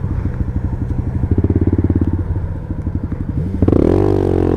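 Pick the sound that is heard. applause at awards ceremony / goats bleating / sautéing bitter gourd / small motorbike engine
small motorbike engine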